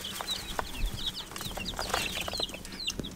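Baby chicks in a brooder cheep constantly in a dense, overlapping chorus of high peeps, close and lively over a faint background hum.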